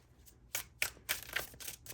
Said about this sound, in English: A lot of shuffling.